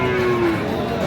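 A Sahiwal bull at a busy cattle market in Dinajpur lets out one long, steady moo, its pitch held level for about half a second before fading into the thick crowd and livestock din around it.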